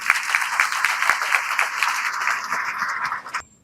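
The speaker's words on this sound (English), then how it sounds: "Shall we please applaud him?" A large audience at a university congregation ceremony applauds steadily and loudly for about three seconds, the dense clapping then tapering off abruptly into quiet.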